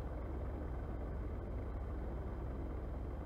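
Cirrus SR20 piston engine idling at about 900 RPM in the X-Plane 11 flight simulator, a steady, dense low rumble that holds constant and close throughout with no talk.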